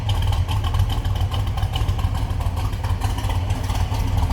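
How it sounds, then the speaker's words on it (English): A 1969 Pontiac GTO with a cammed 389 V8 bored out to 400 idles with a steady, loud, lumpy low rumble and a choppy exhaust pulse heard close up. "A nice little cami engine, a little rumble out of it."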